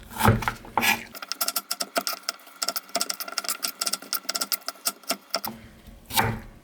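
A knife cuts washed raw deodeok root on a board in a rapid, steady burst of close chopping taps lasting several seconds, with softer handling noises before and after.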